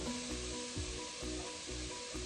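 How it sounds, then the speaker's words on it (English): Turnips given a quick fry in a pan, a low, steady hiss of frying with faint rhythmic rubbing from stirring or shaking the pan. "now I'm actually going to throw in the turnips. And we're going to give them a quick fry as well"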